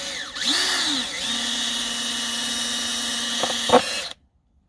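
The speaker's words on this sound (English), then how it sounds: "calls for an 1/8 inch drill bit to drill this out" A power drill with an 1/8 inch bit whines steadily for several seconds drilling out a part during a car intake manifold install, its pitch dipping briefly at the start, then cuts off abruptly into silence.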